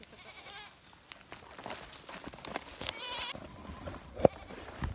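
Goats tied up in a forest give a few bleats amid rustling and shuffling nearby, with one short, louder cry near the end.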